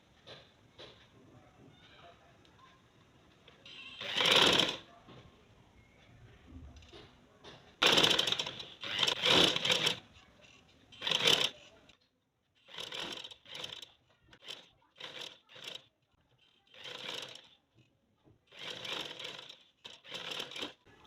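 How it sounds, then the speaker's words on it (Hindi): A sewing machine stitching the bottom of a trouser, running in short bursts of rapid mechanical whirring separated by pauses, close and moderately loud, with no speech. "तो फिर हमने ये स्टिच करनी है"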